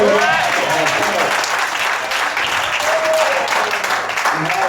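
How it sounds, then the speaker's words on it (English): A church revival congregation clapping along, loud continuous handclaps filling the room with singing and voices mixed in throughout. "Come on, clap your hands"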